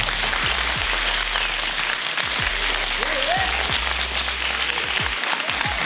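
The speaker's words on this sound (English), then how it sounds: "we give them a nice, warm, Western round of applause" Steady, dense crowd applause from a seated audience at a community Mandela Day bootcamp event, continuous loud clapping throughout with scattered faint voices and whoops mixed in.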